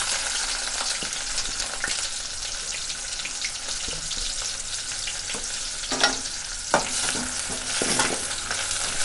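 Small onions fry in a pan with cumin for a mutton gravy, a dense continuous sizzle broken by scraping stirs and a few sharp clinks of the spoon, close and without talk.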